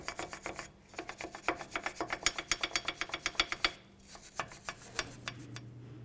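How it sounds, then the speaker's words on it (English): A wire brush scrubs rust off the front brake hub of a 2013-19 Nissan Sentra, making a rapid, rhythmic series of close, raspy strokes with one short pause partway through. "And now just take a wire brush, just clean up the surface where the rotor is going to sit on the hub."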